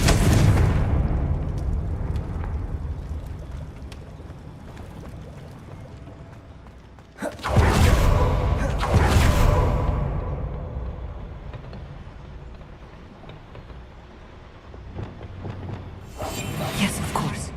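A Confringo spell detonates in Hogwarts Legacy, a sudden booming blast followed by a rumbling burst, with a second loud crack near the end amid game ambience and a voice speaking.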